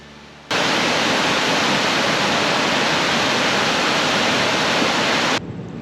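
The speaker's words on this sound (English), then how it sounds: "we managed to squeeze one last waterfall into our day" Potawatomi Falls, a waterfall in Michigan's Upper Peninsula, roars as a steady, loud, broadband rush of falling water that holds constant for about five seconds before dropping back.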